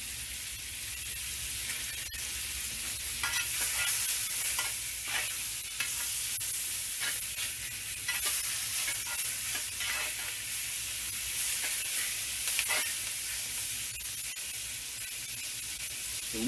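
Onions sizzle in a pan with pork chop remnants, a steady hiss broken by repeated scraping strokes of stirring, close and continuous with no voices.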